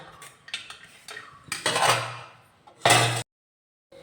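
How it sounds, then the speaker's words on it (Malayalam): Several sharp knife strikes on a cutting board as vegetables are finely chopped for a Kerala thoran, irregular and close, with brief bursts of clatter and a pause of silence near the end. "ചെറുതായിട്ട് ഇതെല്ലാം ഒന്ന് അരിഞ്ഞെടുക്കാം"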